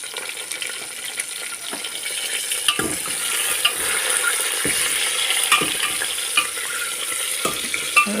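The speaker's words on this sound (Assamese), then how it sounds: "এয়া কণীখিনি আৰু আলুখিনি কুকাৰতে মই এতিয়া অলপমান ভাজি ল'ম।" Eggs and potatoes with salt and turmeric fry in oil inside a pressure cooker, giving a steady close sizzle broken by scraping stirs and occasional clinks throughout.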